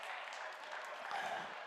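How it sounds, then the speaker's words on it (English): Audience applause for the University of Alabama team at the Lunabotics robotics competition, a faint, distant, even wash of clapping with a murmur of voices underneath. "Let's give University of Alabama a big round of applause."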